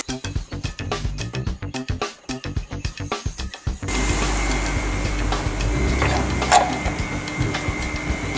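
A long bolt is worked out of the upper arm of an RB1 Honda Odyssey's suspension. Close, rapid metallic clicking and rattling comes first, then gives way to a steadier grinding, scraping scrape with a sharp knock partway through.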